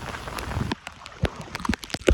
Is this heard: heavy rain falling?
yes